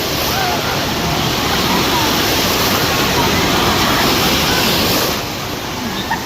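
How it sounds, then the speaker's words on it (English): Strong waves at a water park wave pool, a loud, continuous roaring wash of surf that eases off slightly near the end. "Oh, the waves are pretty strong right now here at the beach"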